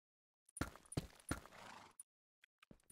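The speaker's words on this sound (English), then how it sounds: "Oh, that's a horse." A horse in a video game's Christmas build, its hooves clip-clopping in a short run of distinct knocks with a faint whinny, close and clear against otherwise silent gaps.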